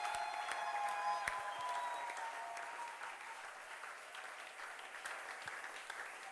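A church congregation applauds and acclaims the name of Jesus, a steady crowd of clapping and cheering voices that holds fairly even throughout without any single speaker standing out.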